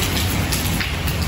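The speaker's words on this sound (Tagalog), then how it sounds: "Lakas ng ulan dito" Heavy rain pours down in Abu Dhabi, a dense, loud, continuous hiss of drops striking surfaces close by.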